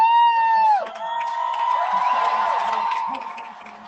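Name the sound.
concert crowd cheering at a show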